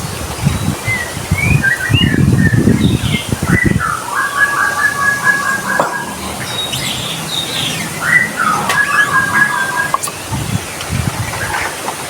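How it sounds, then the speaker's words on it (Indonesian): A white-rumped shama sings repeated bright whistled phrases over a steady rumbling background, with a few louder low bursts of noise early on. "misalkan burung mau main kayak sekarang nih"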